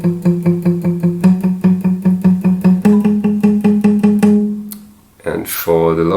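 A higher-pitched guitar part plays the chord progression alone, steady picked chords repeating in an even rhythm, ending with a brief pause and a bright strum and slide.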